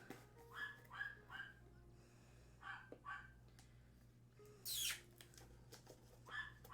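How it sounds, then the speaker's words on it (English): Several sharp dog barks at a distance, coming in scattered bursts with quiet gaps between them, fairly faint. "I am so sorry for the barking if you are hearing it."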